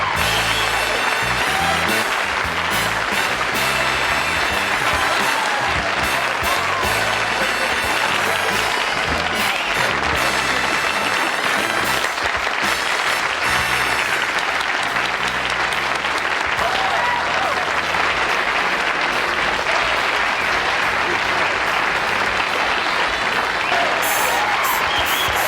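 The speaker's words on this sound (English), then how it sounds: "I'm humbled by that applause." Sustained studio audience applause on a 1974 Johnny Carson late-night talk show, dense and steady throughout with a little crowd noise mixed in.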